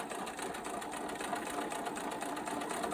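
A sewing machine runs steadily and continuously, top stitching along the top edge of a jeans back pocket, close and alone without talk.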